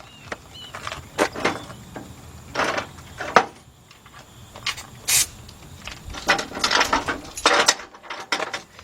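Ratcheting wrench clicks and metallic clanks come in irregular bursts as a part is tightened during a timing belt replacement on a Kia or Hyundai V6 such as a Sorento, Sedona or Santa Fe.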